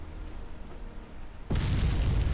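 A warship blows up and sinks in Ultimate Admiral Dreadnoughts, a sudden loud booming explosion that cuts in after a quiet stretch of low ambient rumble and keeps roaring heavily to the end, with no voices.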